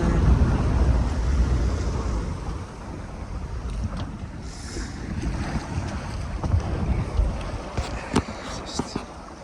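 A Contessa 26 sailboat moves through open sea in a force 4 to 5 beam wind, with steady wind rush and water washing along the hull, plus a few sharp knocks and creaks near the end.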